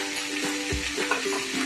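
Mint and coriander leaves sautéed in a pan for mint chutney: a soft sizzle with brief stirring scrapes, quiet and close, lasting under two seconds.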